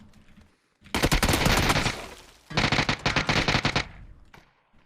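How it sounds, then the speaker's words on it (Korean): Two loud bursts of rapid automatic gunfire in the video game PUBG: Battlegrounds, separated by a brief lull, the second burst more choppy. "총소리"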